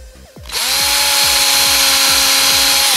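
A power drill whirs steadily after a brief start, boring into a wine cork to make a hole for wire on a handmade fishing rod; loud, close and sustained with no talk.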